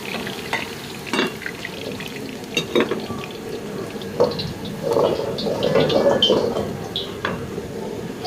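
Vegetables stir-fry over high heat in a hot wok, sizzling and hissing steadily while a utensil scrapes and clatters against it, without any talking.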